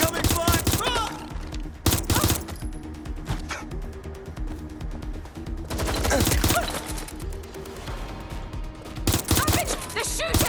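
Gunfire in the video game Watch Dogs Legion erupts in loud, rapid automatic bursts close by, recurring in several waves over tense in-game chatter and background noise.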